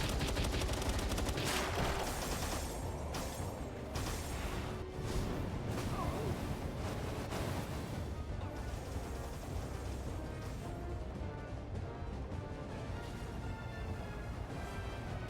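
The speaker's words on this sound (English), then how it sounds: "Let me try this rocket again." Weapon fire from a rocket in a video game sounds as a dense, unbroken barrage of loud shots and bursts, with steady battle noise filling the whole stretch.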